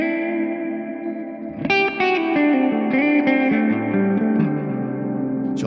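Electric guitar through a Tonex 1.8 spring reverb with pre-delay, a sustained chord followed by a run of plucked notes, each note clear before a loud, wet reverb tail swells behind it.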